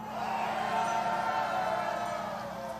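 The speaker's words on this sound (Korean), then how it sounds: "박수!" Crowd applause at an outdoor rally in the square in front of Daejeon Station, a steady, dense wash of clapping and murmur with no clear pauses.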